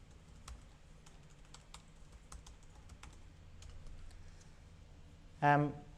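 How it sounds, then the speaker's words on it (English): Login credentials are typed on a computer keyboard at a steady pace, light clicking keystrokes close by over a quiet background, ending in one louder key press or click. "Now if we type in the correct credentials"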